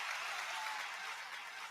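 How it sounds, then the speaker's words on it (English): Brief clapping from a small audience during a talk session, a steady, dense patter of hand claps lasting under two seconds, fairly faint and unbroken by speech. "Oh, you got a hand clap for that one?"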